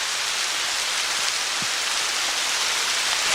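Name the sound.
rain shower falling, heard from shelter under a tree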